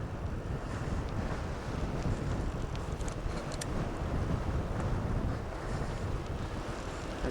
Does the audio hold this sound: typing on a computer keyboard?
no